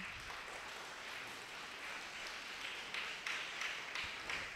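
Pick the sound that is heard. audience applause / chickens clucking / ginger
audience applause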